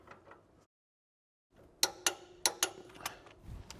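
A torque wrench tightens a new 18mm engine mount nut on a Porsche 996 911, giving several sharp, close metallic clicks in quick succession after a brief silence, with faint workshop handling noise between them.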